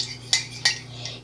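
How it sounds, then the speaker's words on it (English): A spoon stirring a drink mixture in a cup gives two sharp, close clinks followed by a fainter third tap, over a low steady hum. "Let me stir it up a little more."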